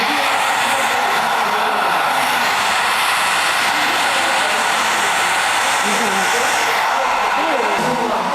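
A hair dryer runs continuously to dry a piece of artwork in an art workshop class, a steady broadband whoosh heard up close throughout, with faint voices beneath.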